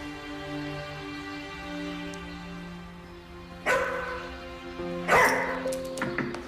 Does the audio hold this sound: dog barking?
yes